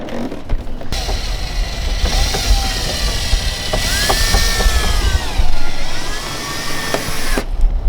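A power drill whirs steadily for several seconds while drilling to fit a rear diffuser on a Lexus IS, its motor whine rising and dipping in pitch as it bites, loud and close.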